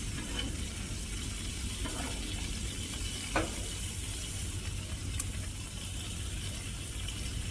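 Bacon sizzles in a pan for keto bacon cheeseburgers, a steady soft crackle and hiss with occasional louder pops, fairly quiet and without talk.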